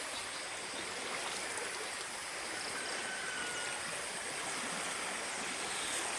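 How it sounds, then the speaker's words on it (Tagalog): Strong river current after the water level dropped, a steady broadband rushing flow with no pauses, moderately loud, with no voices. "Bumaba ang tubig pero lumakas po ang agos"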